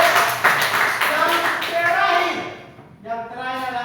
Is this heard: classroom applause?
yes